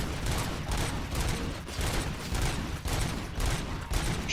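Rapid gunfire in the video game RoboCop: Rogue City, a continuous stream of repeated shots in quick rhythmic bursts, loud and dense with no pauses.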